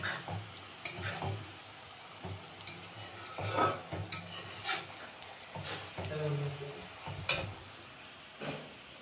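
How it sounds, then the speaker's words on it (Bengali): Onions sizzle in a pan for biryani while a utensil stirs and scrapes them, with intermittent metallic clinks. Voices talk quietly in the background. "দেখুন পেঁয়াজ ভাজাটা"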